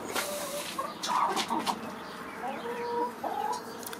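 Chickens on a home poultry farm cluck and chatter in a busy, overlapping run of calls, with a rooster among them, close and fairly loud throughout with no talking.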